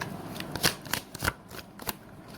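Tarot cards shuffled for a reading, quiet riffling and sliding with a few soft slaps and taps at an irregular pace, close and alone.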